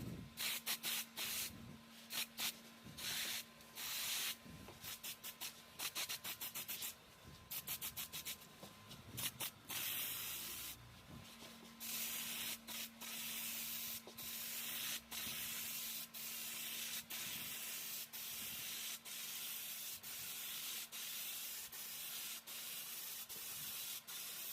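Paint is sprayed onto a table during a Ford Transit 2.2 van build, a close hiss coming in repeated bursts, then a longer steady spray, with a low electrical hum running underneath.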